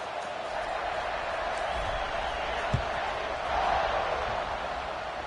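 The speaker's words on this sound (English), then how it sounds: "this crowd is buzzing after that last score" A stadium crowd in the College Football 26 video game keeps up a steady, distant buzz just after a score, a broad, even roar with one brief thump partway through and a slight swell near the end.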